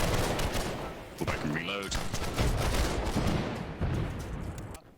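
Rapid video game gunfire crackles in dense bursts amid explosions and a busy battle mix, with someone talking over much of it.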